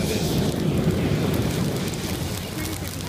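A crashed hexacopter's LiPo battery burns on wet grass, giving off a dense, continuous hissing crackle that stays close and steady, with no clear voices over it.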